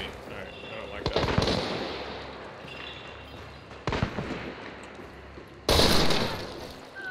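Gunfire in the video game Hunt: Showdown, with three sharp loud shots spaced a few seconds apart, the last the loudest, over a steady noisy ambient bed with faint talk.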